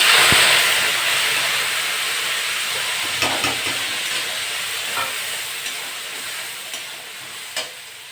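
Ground tomato, onion and ginger-garlic paste hit hot oil while shrimp with jackfruit is being cooked, giving a strong hissing sizzle at first that settles into a steady frying hiss with a few soft stirring knocks.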